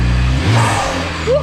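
Engine of a BMW 1M E82 revs briefly, a loud, close roar that rises and then drops back to a deep idle rumble.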